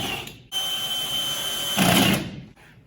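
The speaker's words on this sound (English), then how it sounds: "So we're going to screw it on in the center so we can cut that part off." A power drill drives screws into a drywall sheet fastened to studs, a close steady motor whine lasting about two seconds that rises in pitch and load near the end before stopping, with no talk.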